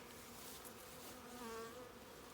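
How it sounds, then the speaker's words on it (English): A steady, close buzzing drone of a honeybee swarm flying around a nucleus hive, continuous and even throughout with no voices. "Flying bees around."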